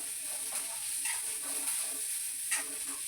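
Onion frying in a pan for dhaba-style bhindi masala, heard as a faint steady sizzle with a few soft scraping stirs.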